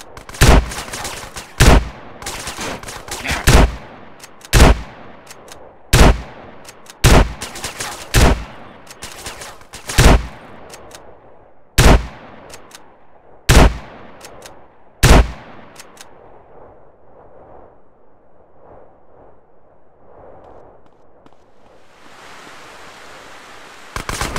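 Gunfire in the video game GTA San Andreas: a dozen loud, sharp shots crack out at uneven intervals, each with a brief tail, then fall away into a quiet hiss near the end.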